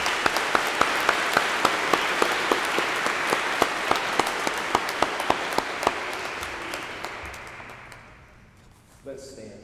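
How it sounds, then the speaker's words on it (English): A congregation at a 2021 graduates' blessing gives a steady round of applause, loud at first and gradually fading away near the end, when a voice begins. "Before the blessing, let's give them a round of applause"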